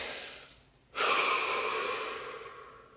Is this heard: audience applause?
no